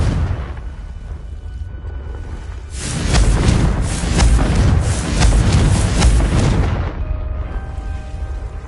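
A Confringo spell going off in the Hogwarts Legacy video game: a loud, rumbling explosion bursts in after a quiet lead-in, with several crackling booms rolling over each other for about four seconds before dying back to ambient game sound.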